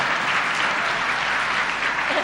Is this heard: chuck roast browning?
no